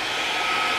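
A steady, loud rush of blowing air from a hair dryer, constant and unbroken throughout.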